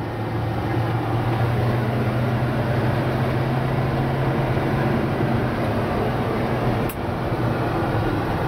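A 1985 GMC K1500 pickup truck drives along, its steady engine and road hum droning evenly inside the cab for the whole stretch, with no talking.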